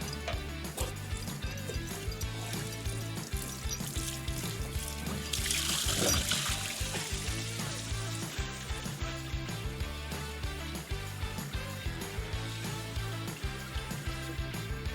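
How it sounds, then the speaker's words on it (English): Water drains from the tank of a BOMAG heavy tandem roller, a steady trickle and pour running the whole time, with a brief louder gushing surge midway. "disconnect the hose on the bottom and remove the tank cap to let all that water out"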